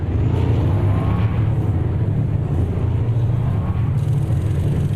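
A loud, deep race car engine in the racing game Automobilista 2 growls steadily up close, a rumbling low drone with slight shifts in pitch, no voices over it.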